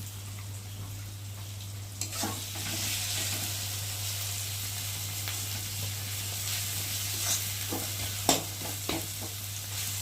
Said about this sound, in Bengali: চেপে চেপে পেট করে তো চলো ওদিকে একটু নেড়ে দিই।